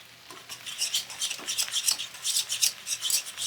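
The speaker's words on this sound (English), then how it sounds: "I am going to sear off the baby spinach in the cast iron" Baby spinach cooking in a cast iron pan, heard as a rhythmic run of close scraping and rubbing strokes with a light sizzle beneath, about a dozen strokes in quick succession.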